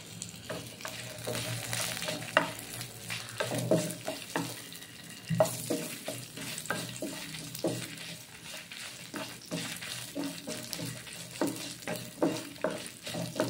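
Onion, garlic and dried red chilies fry in a pan for a Kerala-style pumpkin-seed chammanthi, a steady close sizzle broken by repeated scrapes and stirring knocks throughout, with no talking.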